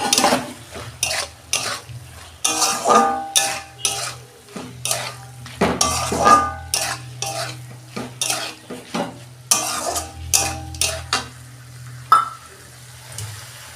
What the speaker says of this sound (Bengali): এইবার সবজিগুলো দিয়ে দিচ্ছি।